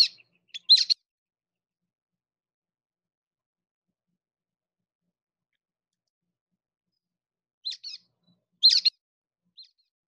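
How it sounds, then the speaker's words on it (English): Brown-headed nuthatch giving squeaky, toy-like calls in two short clusters separated by a long silence, clear and fairly close. "the perfect description of a brown-headed nuthatch, that squeaky dog toy"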